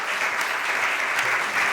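A theatre audience at a cultural festival in Spain applauds, a dense, steady wash of clapping filling the room at close range.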